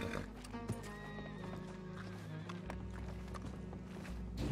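A horse in a video game neighs and whinnies repeatedly amid clip-clopping hooves and a steady background, with faint speech underneath.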